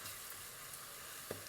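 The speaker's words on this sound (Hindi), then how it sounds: "अब इसमें मैंने जो गार्लिक लिया था वो पीस के मिक्स कर दूंगी। बस 1 मिनट के लिए इसको फ्राई करेंगे।" Onion and garlic fry steadily in a pan for an Afghani pulao, a dense continuous sizzle with one brief clack near the end, no voices.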